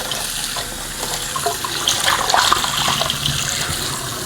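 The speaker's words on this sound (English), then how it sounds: "make sure your water runs as hot as you can get it" Hot tap water runs into a cast iron skillet, a steady close rushing splash that grows louder and busier midway before settling back.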